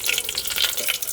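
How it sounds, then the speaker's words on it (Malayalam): Mustard seeds, fenugreek and dried chillies fry in hot oil, crackling and popping close up in a short, busy burst of sizzle. "കടുക് പൊട്ടി കഴിഞ്ഞാൽ ഉലുവ ഇട്ട് കഴിഞ്ഞിട്ടുണ്ടെങ്കിൽ വറ്റൽമുളക് ഇടണം"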